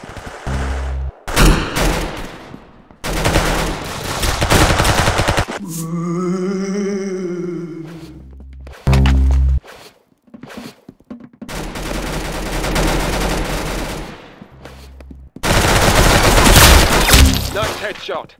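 Repeated volleys of video game gunfire, sharp and close, arrive in several separate bursts with short pauses, deep booms and a warbling tonal stretch between them.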